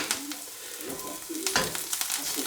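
Freshly gathered wild mushrooms frying in a pan, a steady close sizzle with a few stirring scrapes over it.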